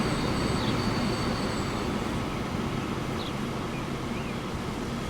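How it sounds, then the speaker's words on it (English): Freight train rolling past in the railway game Transport Fever 2, a dense steady rumble with a broad wash of wheel noise and faint high squeals, loud and continuous throughout with no talking. "I can hear another train coming in."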